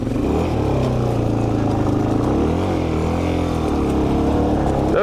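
A Suzuki DRZ400E off-road motorcycle runs flat out at top speed, its engine droning loud and close with a steady high-revving pitch that wavers slightly throughout.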